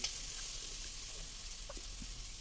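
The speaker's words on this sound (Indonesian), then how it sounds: "Ini kita akan goreng teri nasinya sampai kuning gitu ya, kuning kecoklatan" Small rice anchovies (teri nasi) fry in oil in a thick pot until golden brown. The sizzle is faint and continuous, with scattered soft pops and crackles.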